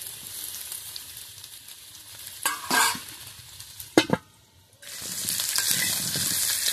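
Steady sizzling of potatoes frying in hot oil, broken by a few clattering stirs and a brief lull before the hiss returns.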